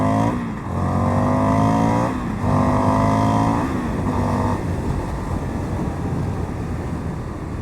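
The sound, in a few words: Indian FTR 1200 motorcycle revving and riding off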